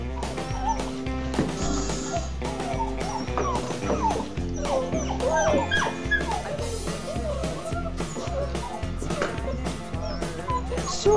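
Several dogs whimper, yip and bark excitedly close by at morning feeding time, a constant busy chorus over a steady low hum, with occasional soft human murmurs.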